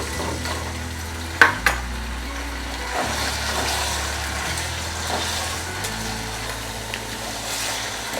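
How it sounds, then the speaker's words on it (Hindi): About a kilogram of chicken fries in a generous amount of oil in a karahi pan, giving a steady, close sizzle with occasional stirring clatters and no talking. "चिकन को हम इसके कलर चेंज होने तक फ्राई करेंगे"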